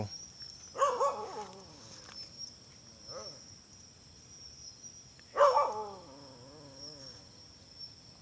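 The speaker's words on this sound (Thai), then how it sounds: "มาเจอกันก็จะเห่าเป็นธรรมดานะครับ" Dogs from a neighbouring area bark at a Labrador outdoors. Two loud, sharp barks land several seconds apart, with a few fainter yips between them, over a steady high chirping of crickets.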